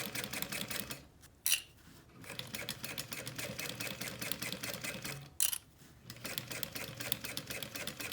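A sewing machine runs in fast, even rhythmic bursts as it stitches fabric near a zipper, close and moderately quiet, with two brief pauses; no talking.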